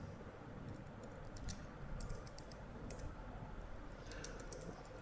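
Soft keystrokes on a computer keyboard while entering data in an Excel spreadsheet, arriving in sparse, uneven clusters against a quiet room hiss.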